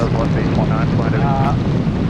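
A Piper Cub light airplane's engine drones steadily in flight in the landing pattern, loud and close, with wind buffeting and a voice talking over it.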